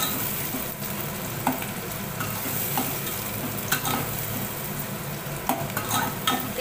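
Onion frying in hot oil while being stirred for a chicken liver dry dish, a continuous dense sizzle broken by occasional scraping clinks of the spoon against the pan, close and fairly loud.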